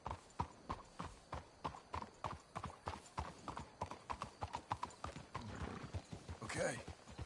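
Horse hooves clip-clop in a steady walking rhythm in the video game Red Dead Redemption 2. The hoofbeats are close and fairly quiet, and a horse whinnies briefly near the end.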